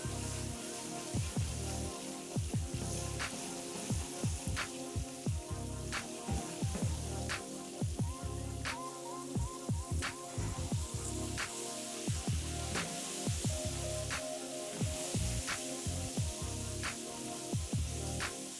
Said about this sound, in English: Once the oil reaches the right temperature, I carefully place the fish into the pan.